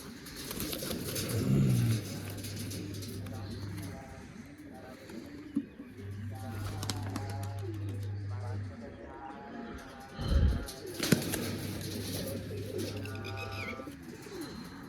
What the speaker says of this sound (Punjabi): ਆ ਪੰਜ ਕਬੂਤਰ ਛੱਡਨੇ ਆਪਾਂ